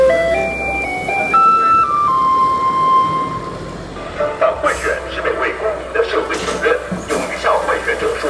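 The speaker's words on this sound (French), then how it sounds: "C'est le bruit du camion poubelle qui est juste derrière nous" A garbage truck just behind the listeners plays its little jingle melody, clear tones stepping up and down outdoors in Taiwan, and then people talk over a lingering background hum.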